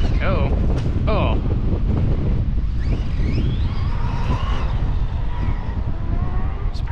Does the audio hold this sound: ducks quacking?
no